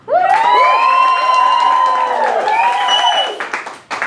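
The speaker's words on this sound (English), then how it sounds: "please applaud and whoop now" A crowd cheers and whoops to vote for a candidate at a live show, high sustained shouts and whoops over clapping, loud and close, fading out near the end.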